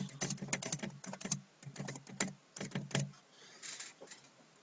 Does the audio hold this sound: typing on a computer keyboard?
yes